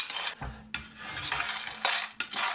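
A utensil scrapes and rattles against a pan as peanuts roast and are stirred, with repeated clattering strokes and brief pauses, close and fairly loud.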